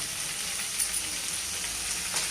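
Ivy gourd fry with turmeric being stirred in a pan, a steady close sizzle of frying with faint scraping from the stirring, no voices.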